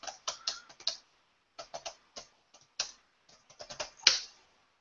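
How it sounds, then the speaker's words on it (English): Typing a question on a computer keyboard: scattered bursts of light key clicks in short irregular runs with pauses between, quiet and close, ending in a slightly louder press. "Let's start typing our own question."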